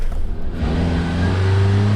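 A Land Rover Defender engine revs in too low a gear while driving off-road, a close, loud rising growl that climbs in pitch over two seconds.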